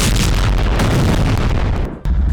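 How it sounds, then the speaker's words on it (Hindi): An IED planted under an Israeli tank in Gaza blows up with a loud, sustained roaring blast that fills the whole clip and dips only briefly near the end. No voices are heard. "हमास लड़ाकों ने टैंक के नीचे आईडी रखकर इजराइल के टैंक को उड़ा दिया।"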